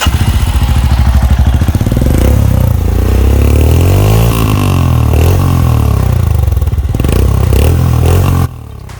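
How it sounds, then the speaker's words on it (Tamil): A Royal Enfield Scram 411 with a Red Rooster exhaust and no dB killer roars very loud and close, its deep thumping engine rising and falling through revs before cutting off near the end. "இதுதான் red rooster exhaust with no DP killer."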